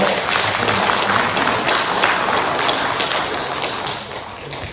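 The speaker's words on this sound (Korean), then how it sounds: "우리 한번 크게 박수로" A church congregation applauds during a Sunday service, a steady wash of clapping filling the room at moderate volume and tapering off slightly toward the end.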